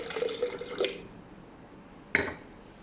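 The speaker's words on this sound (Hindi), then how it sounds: "सबसे पहले हम डालेंगे इसमें हाफ गिलास दूध का" Half a glass of milk is poured for a date and almond shake, a short splashing trickle at the start followed by quiet, then a single sharp clink of glass near the end.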